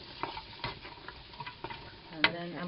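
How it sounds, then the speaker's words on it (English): Chopped garlic sizzling in a hot pan while a utensil stirs it, a soft frying hiss broken by scraping strokes and small clicks, with one sharper knock near the end. "Okay, well you can hear it sizzling now."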